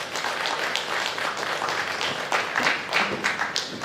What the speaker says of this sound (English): Please let's clap for her as she comes up.